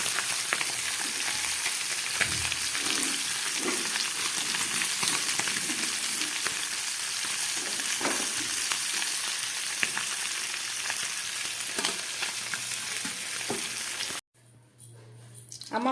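Pomfret and kagji fish fry in hot oil in a pan, a continuous dense crackling sizzle that holds steady and then cuts off abruptly near the end.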